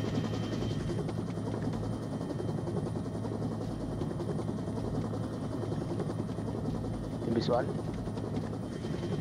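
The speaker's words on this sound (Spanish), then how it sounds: "Vale, helicóptero localizado." A military helicopter approaches in the Onward co-op VR shooter, its steady rotor drone running throughout beneath tactical radio chatter, with a brief rising whine near the end.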